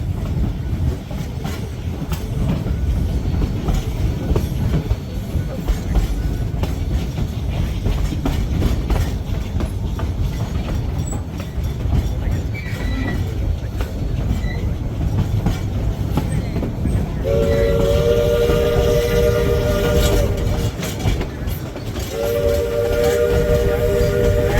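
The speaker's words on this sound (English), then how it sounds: "you hear 2 long, 1 short, and another long blast of a horn or a whistle" Train horn on the Georgetown Loop railway sounds at a crossing, heard from aboard the moving train: a low rumbling ride for most of the stretch, then two long horn blasts near the end over the rail noise.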